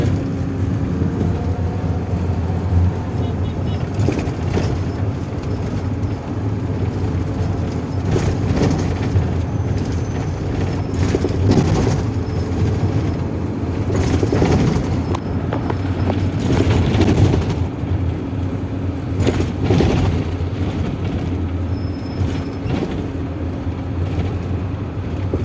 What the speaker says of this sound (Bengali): Comilla Shasongachha rail station